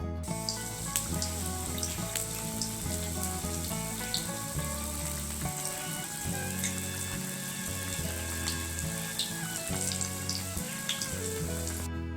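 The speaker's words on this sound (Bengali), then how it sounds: "কড়াইটা গরম হচ্ছে তেল দেবো আর ভাজবো চলো" Besan-coated vegetables fry in hot oil in a wok, a continuous soft sizzle and crackle at moderate level beneath steady tonal background music.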